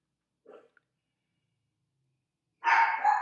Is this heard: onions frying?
no